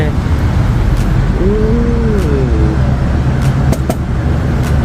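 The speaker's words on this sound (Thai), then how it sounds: "ริมถนนเสียงดังหน่อยเนาะ" Steady roadside traffic rumbles throughout, with vehicles droning past nearby and a faint rising horn-like tone, while people talk softly underneath.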